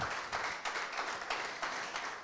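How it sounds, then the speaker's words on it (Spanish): Congregation applause in a church service, a faint, steady patter of many hands clapping in quick irregular bursts throughout. "Le damos un aplauso a la palabra de Dios en esta mañana"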